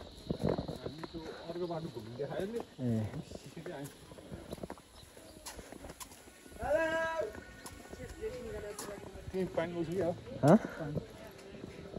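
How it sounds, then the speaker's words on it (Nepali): Horse hooves clop on stone paths in a stone village, the hoofbeats irregular and partly buried beneath steady, close conversation. "घोडा हेर न, घोडा बान्ने तबेला"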